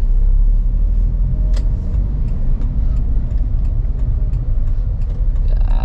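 A car's engine hums at a low, steady rumble while driving slowly in a narrow street, with faint clicks and small thumps as gears shift, no voices.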